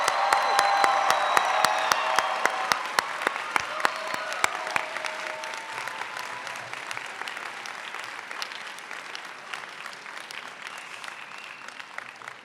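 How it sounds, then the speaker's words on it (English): Commencement audience applauding graduates at a spring college ceremony, a loud crowd of clapping with a few sharp claps standing out, slowly fading to a softer sustained patter. "Let's give one more round of applause for our graduates."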